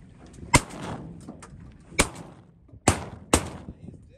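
Four loud shotgun blasts ring out while sea duck hunting for scoters, spaced unevenly over a few seconds, each a sharp crack with a short echoing tail over a faint outdoor background.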